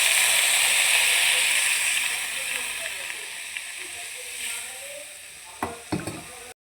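Water is poured into vegetables frying in a pan. It sets off a loud, hissing sizzle that gradually fades, and a few sharp clatters of utensil against pan come near the end.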